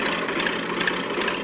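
A Massey 385 tractor engine idles steadily and fairly loud, a continuous rumbling drone with no pauses and no voices.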